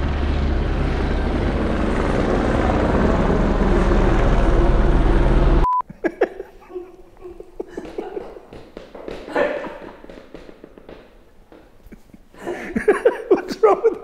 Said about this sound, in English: This is the police chopper coming after you that did this.